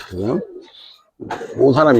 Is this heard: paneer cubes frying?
no